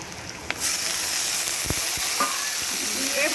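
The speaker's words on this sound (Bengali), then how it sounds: "আর পেঁয়াজ কুচি এইরকম হালকা ভাজা ভাজা হওয়ার পরেই কুচনো শাকটাকে এর মধ্যে দিয়ে দেবো" Chopped onion, grated garlic and chopped radish greens sizzle steadily in a hot pan, a continuous close frying hiss with a few soft clinks of a utensil.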